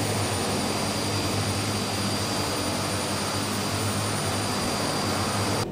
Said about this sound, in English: We've got a good start on the left engine